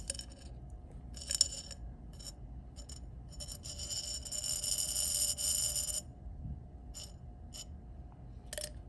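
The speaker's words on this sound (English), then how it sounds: "It's actually something about the contact between the dry ice and the glass, or the dry ice and the thermometer," Dry ice pressed against glass and a thermometer sets up a shrill buzzing vibration that comes in short bursts and then holds as one sustained rasping whine for a couple of seconds before breaking off. It sounds close and fairly quiet.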